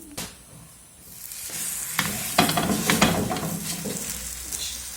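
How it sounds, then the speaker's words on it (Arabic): Moroccan rghaif flatbread dough, laid into a heated frying pan, starts crackling and sizzling after a quiet start. The frying builds to a steady, close sizzle with a few sharp pops and no voices. "غندوزو مباشره نحطوها في المقله اللي كتسخن لينا"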